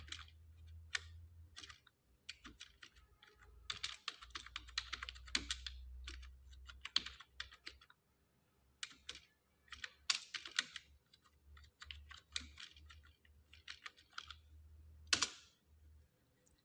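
Bursts of typing on a computer keyboard while filling in an exam-paper table in Microsoft Word, with quick clustered keystrokes separated by short pauses, close and fairly loud over a low background hum.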